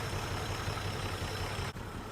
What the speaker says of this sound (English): Oh, she's idling nice.